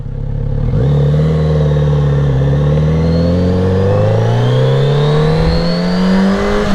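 A 2021 Kawasaki Z900 RS Cafe inline-four motorcycle engine revs up close by. Its smooth, continuous drone climbs steadily in pitch as the bike accelerates, with no talking.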